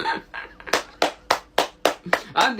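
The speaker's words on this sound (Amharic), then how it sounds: "አንዴ ጀማ እዚች ጋር ሞቅ ያለ ጭብጨባ ለማን ነው የምናደርገው?" A handful of people clap in applause for a football striker, about seven distinct, evenly spaced claps, close and sharp, after a brief murmur of voices.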